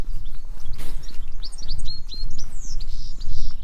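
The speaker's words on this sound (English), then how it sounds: "As you can hear, the birds really enjoy being here." Birds singing along a walk toward the sea on a May day, with bright repeated chirps and twittering calls close and loud over a constant low rumble of wind or outdoor background.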